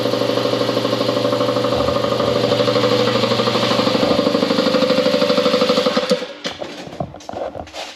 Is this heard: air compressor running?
yes